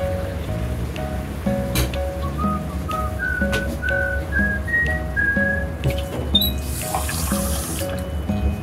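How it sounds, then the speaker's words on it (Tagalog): Water trickles and splashes steadily into a pan of chicken adobo, a continuous close liquid pour under a rising whistled tune and faint kitchen clatter. "Lagyan natin siya ng kaunting tubig, ganito, parang half cup of water."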